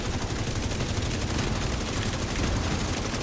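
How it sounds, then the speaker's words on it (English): A minigun fires in the shooter game Division 2, a continuous, dense, roaring burst of rapid gunfire that stays loud and unbroken throughout, with no speech. "Minigun power restored"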